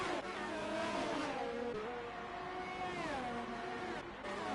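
A Red Bull Formula-style race car in a league racing video game howls past with a continuous high-revving engine whine whose pitch rises and dips through gear changes, loud and steady throughout.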